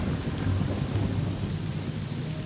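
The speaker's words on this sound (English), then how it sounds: "It's raining again." Steady rain and a low rolling rumble of thunder play in the game Morrowind (OpenMW). The constant, moderately loud wash of rainfall runs under the deep thunder with no talk.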